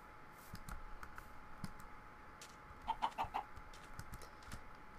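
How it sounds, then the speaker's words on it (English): Chickens clucking in a Minecraft-style vanilla server game, a short burst of four quick clucks near the middle over a faint steady background, fairly quiet with no talk. "Can't be doing with chickens at the moment."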